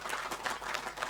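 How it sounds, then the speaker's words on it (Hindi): An audience at a kavi sammelan in Saket Garden, Indore, applauds a young lyricist: a brief burst of close, dense clapping that stays steady. "जोरदार तालियां बजाकर इस युवा गीतकार का स्वागत कीजिए"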